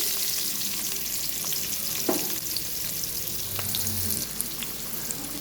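Chopped onions frying in hot oil for a brinjal, potato and peas curry: a steady, even hiss of sizzling throughout with faint occasional stirring clicks, fairly quiet and with no speech.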